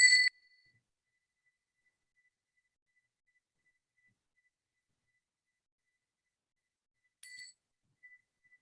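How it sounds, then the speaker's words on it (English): A meditation bell rings once with a clear, bright metallic strike, leaving a faint lingering tone in deep silence, then sounds again about seven seconds later, softer and brief. "And so as I ring the bell, you're inviting some reflection"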